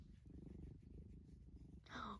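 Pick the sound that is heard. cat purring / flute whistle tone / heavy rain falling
cat purring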